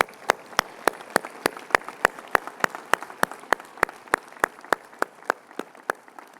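Audience round of applause at the UNC Kenan-Flagler groundbreaking for Steven D. Bell Hall, heard as a single steady clapper up close, sharp regular claps about four per second over a faint murmur of other hands.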